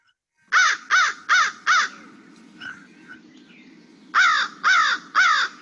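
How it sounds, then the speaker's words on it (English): An American crow caws in two bursts, four loud, evenly spaced caws, a short pause with faint softer calls, then three more caws, close and clear with no talking. "So the American crow says,"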